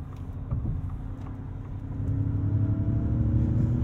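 A 2022 Ford F-150 Lightning electric pickup accelerates hard in a straight line, a rising whine over steady road and tire rumble that grows louder toward the end.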